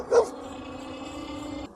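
One short dog bark rings out at the start, then a steady electric motor hum with a faint whine from a Wallke X3 Max dual-motor scooter carries on alone.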